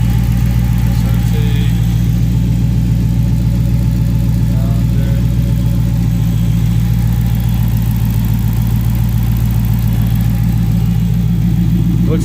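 A 2009 Dodge Challenger SRT8 V8 with K&N intake and oil catch can rumbles loudly and close, a deep steady idle with mild throttle swells throughout and no talking.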